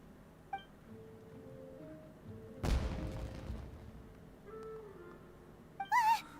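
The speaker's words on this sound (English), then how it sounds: "It sounded like fireworks." In Genshin Impact, a firework bursts once with a loud boom and a crackling, fading tail, set among soft game chimes and tones, with a bright shimmering chime rising just after.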